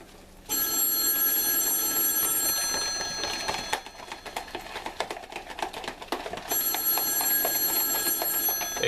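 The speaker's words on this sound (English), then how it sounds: "Ignore the phone." A telephone rings loudly in a kitchen during pancake making, a bright steady bell tone in two long bursts with a gap of clattering noise between them.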